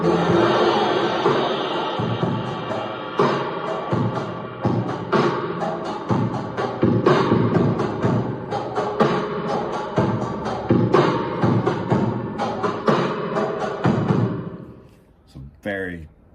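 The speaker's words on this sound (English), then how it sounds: "And we're using some distortion, some chorus, and a spring reverb" Processed drum track run through guitar pedals with distortion, chorus and spring reverb, producing a dense, gritty, industrial-sounding beat of steady hits with a washy, smeared tail, ending with a brief rattling decay.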